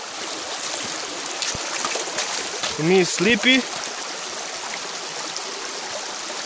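A mountain river in the Carpathians rushing steadily as a hiker crosses it on foot, a continuous close watery wash with people talking briefly over it midway.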